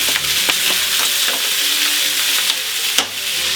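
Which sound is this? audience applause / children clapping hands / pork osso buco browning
pork osso buco browning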